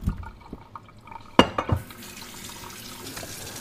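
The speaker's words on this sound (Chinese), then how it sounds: "焯过水的鳄龟啊，咱们清洗一下" Blanched snapping turtle pieces being rinsed in a sink, with water running and splashing, a few sharp clatters and sloshes near the middle, then steady quieter trickling.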